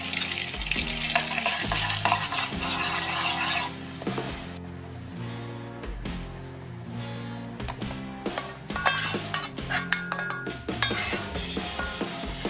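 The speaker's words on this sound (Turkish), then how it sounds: "Tereyağı ince eridikten sonra naneyi de ilave ettim" Mint added to melted butter in a pan for a bone-broth winter soup, a short sizzle at first, then metal clinks and scraping of a utensil against the pot with sharp knocks, close by.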